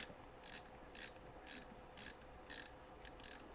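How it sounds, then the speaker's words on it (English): Magnetic screwdriver turning tiny M.2 screws on a motherboard being prepped for a PC build, giving a quiet, close run of repeated ratcheting clicks in short bursts about every half second. "Good magnetic screwdriver is very helpful with these tiny M.2 screws."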